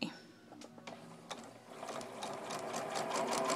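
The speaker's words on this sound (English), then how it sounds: "I'm just sewing and not stopping when I put the next one in" A sewing machine chain pieces quilt pieces, running in a steady fast mechanical whir with rhythmic needle clatter, close and continuous, building slightly louder toward the end with no talking.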